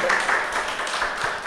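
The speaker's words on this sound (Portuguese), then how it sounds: "Uma salva de palmas, por favor." A small audience at an academic research event gives a short round of applause, a steady patter of clapping hands heard briefly.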